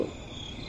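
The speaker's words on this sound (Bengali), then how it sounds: "লক্ষ লক্ষ ঝিঝির ঝিল্লি" Crickets chirp at night in a forest, a faint, steady, continuous high chirring heard on its own.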